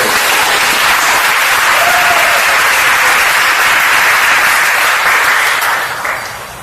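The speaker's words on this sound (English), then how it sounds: "Please give a round of applause." A large audience at an event for a man cleared of accusations breaks into loud, sustained applause, a dense wash of clapping that holds steady and begins to fade at the very end.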